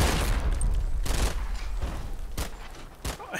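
A machine gun in a Combat Mission battle fires several loud, sharp bursts at irregular intervals, with booming reports and echoing tails between them.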